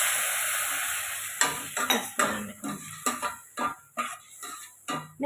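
Milk poured into a hot pan of fried vermicelli for kheer hisses and sizzles steadily at first, then gives way to rhythmic scraping and clinking of a spoon stirring against the pan, close and clear.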